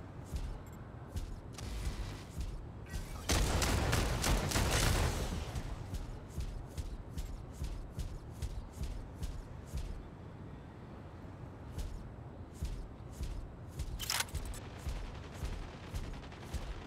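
Rapid gunfire from the video game Mech Arena, sharp repeated bursts with a dense, loud barrage around the middle and scattered single shots afterward.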